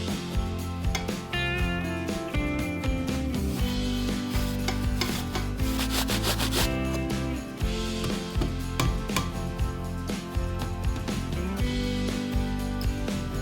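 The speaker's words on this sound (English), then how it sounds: "I grate the apple for a delicious apple note." An apple is grated for a yogurt cake batter, producing a continuous close rasping scrape in quick repeated strokes, with music playing underneath.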